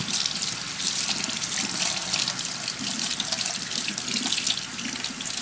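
A tap runs steadily into a sink while a makeup brush is rinsed under it, giving a continuous close hiss and splash of water with no pauses.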